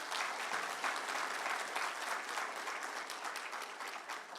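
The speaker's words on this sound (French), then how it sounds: "Véritablement, ces performances méritent des applaudissements." An audience claps in steady, sustained applause throughout, a dense crowd of hands heard close and even, with no speech over it.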